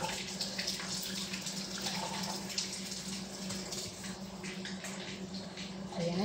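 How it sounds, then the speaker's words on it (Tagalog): Tap water runs steadily into a sink as vegetables are rinsed for a fish and vegetable dish, a continuous close splashing rush with faint clinks of handling. "lugasan ko na siya."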